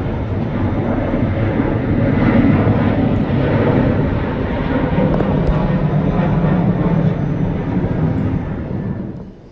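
A WestJet airliner's engines drone at Atlanta's Hartsfield-Jackson airport, a steady, loud broadband roar with a low rumble that holds for several seconds before tapering off at the end.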